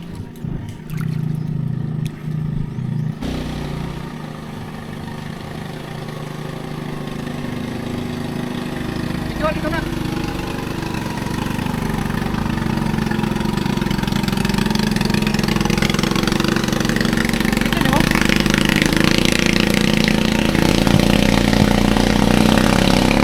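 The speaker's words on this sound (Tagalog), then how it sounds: "May bangka na dadaan." A passing boat's engine on a river chugs at a steady mid-pitched idle, growing louder and fuller as it draws nearer, with faint talk early on.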